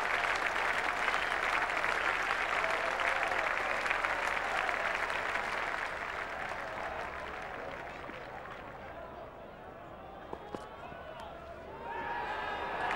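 A cricket crowd at Trent Bridge applauds Brian Lara during a 1995 England v West Indies Test, sustained distant clapping that gradually fades while a commentator's voice continues beneath it.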